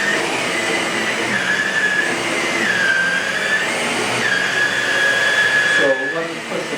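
A Shark Navigator Lite compact upright vacuum, model NV105/NV106, runs steadily on a rug with a loud, continuous whine whose pitch dips and rises slightly as it is pushed, close to the listener.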